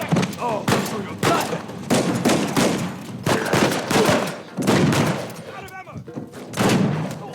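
Dense, continuous bursts of turret gunfire in the video game Uncharted 4, loud and close, with rapid overlapping shots and impacts filling the whole stretch under game sounds.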